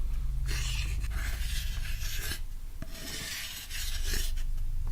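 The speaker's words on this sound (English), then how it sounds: "Is he sharpening his spear? Sounds like it." A harsh, steady scraping rasp repeats in long strokes as a spear is sharpened, metal drawn against stone or metal at close range, with brief pauses between strokes.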